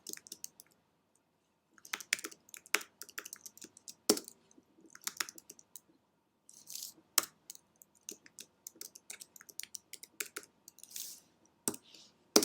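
Fingers typing on a computer keyboard in short uneven bursts of crisp clicks and key taps, with brief pauses between runs and a few louder strikes, close and alone.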